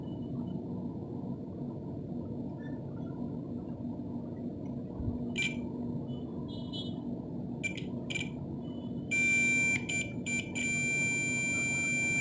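Multimeter continuity tester beeping on a shorted capacitor in a Dell Inspiron 15 laptop motherboard, short electronic beeps toward the end ending in a sustained tone over a low room hum.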